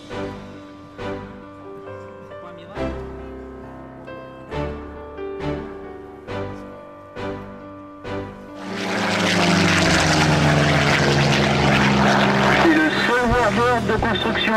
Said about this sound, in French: ça c'est un avion.